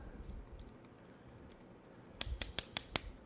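A Sonicare toothbrush part, held with a little Loctite, clicks as it is unscrewed: five sharp, close, evenly spaced clicks come in quick succession near the end, after a quiet stretch.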